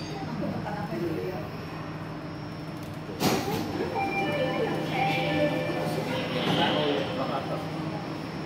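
Jakarta MRT mass rapid transit train riding, a steady interior rumble and hum with a sharp clunk partway through, voices and station noise underneath.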